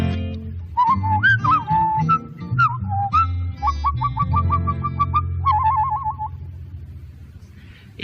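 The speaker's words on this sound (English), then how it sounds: "It's that Irish whistling act I've heard about." A lively melodic Irish whistling act, with trills and quick warbling notes over a low background hum, fading gradually toward the end.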